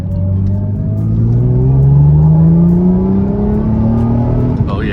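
A Lexus IS300 with an HPS intake hose pulls hard through first and second gear. The engine note rises steadily and loudly from inside the car, drops briefly at the shift, then climbs again, while an occupant talks faintly over it.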